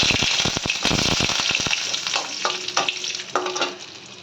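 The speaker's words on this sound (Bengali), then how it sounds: "তেলটা গরম হয়ে গেছে, দিয়ে দেবো সর্ষে আর শুকনো লঙ্কাটা, আর দিয়ে দেবো কারি পাতা" Mustard seeds, dried red chillies and curry leaves hit hot oil with a burst of loud crackling pops and spluttering, easing into a steady sizzle with a few fresh spurts of frying.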